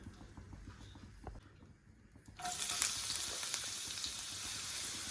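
Long-sliced medium onion hits hot coconut oil in a pan and breaks into a sudden, loud, steady sizzle that carries on evenly after a quieter start, with no talking.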